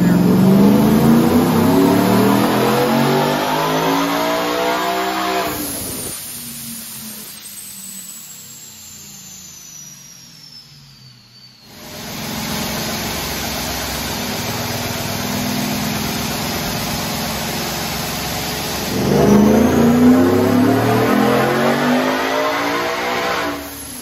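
A Vortech-supercharged 2022 Ford F-150 revs hard on a dyno in a loud rising pull with supercharger whine. It drops to a quieter idle, then roars back into another rising rev near the end.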